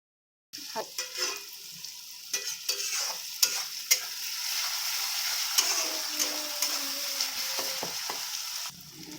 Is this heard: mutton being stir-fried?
yes